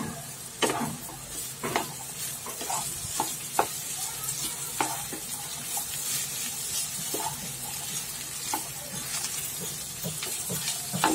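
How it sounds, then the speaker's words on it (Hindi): Okra stirred and fried in a pan with lightly browned onions for a home-style bhindi sabzi: a steady close sizzle runs throughout, with sharp scraping knocks from the spoon at irregular intervals. "भिंडी अच्छी तरह से मिक्स कर लीजिए।"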